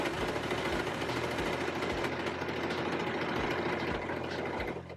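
A sewing machine stitching a straight line along a dress seam, a steady close hum with a faint regular low thump running throughout, fading slightly at the end.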